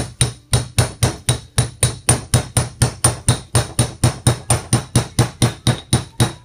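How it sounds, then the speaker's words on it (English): A hammer taps steadily while a parlour-style chair is re-caned, about twenty close, sharp strikes in an even, quick rhythm, each with a short ring, and no voices. "It's the fall of the hammer, basically."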